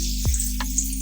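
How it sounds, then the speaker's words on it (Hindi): Pakoras drop one by one into hot oil in a kadhi over medium flame, a brief close sizzle with a few sharp pops over a steady low hiss. "ऑयल हमारा गर्म हो गया है और अब इसमें 1 बाय 1 करके पकोड़े ऐड करेंगे फ्राई करने के लिए"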